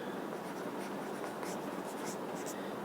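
Writing on a board during an algebra lesson, a steady, close scratching and scraping of the marker or chalk that carries on without a break.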